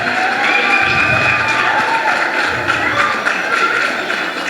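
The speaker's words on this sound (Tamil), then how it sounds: "இன்னொரு கைத்தட்டல் கொடுத்துடலாம்." Loud crowd noise from an audience after a children's dance at a Pongal celebration, a dense wash of clapping and cheering voices held steady throughout.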